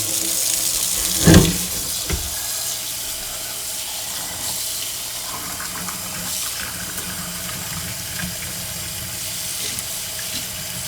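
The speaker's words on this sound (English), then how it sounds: "what we're going to do is just rinse it and get it ready to go. I use cool water" Cool tap water running steadily into a sink while fish is rinsed under it, with a brief louder splash near the start and a constant gushing stream throughout.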